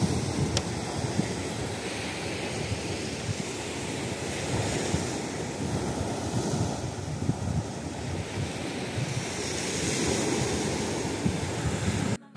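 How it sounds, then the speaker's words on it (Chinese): Ocean waves roll onto the shore along a western coastline at dusk, a continuous roaring wash with gentle swells, mixed with wind buffeting the microphone. "听听海浪声"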